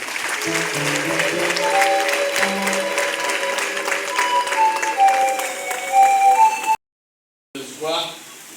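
A Catholic congregation at a parish's 60th anniversary celebration applauds, with sustained clapping mixed with crowd voices and high, tonal ululation or singing, then a brief cut and a short resumption.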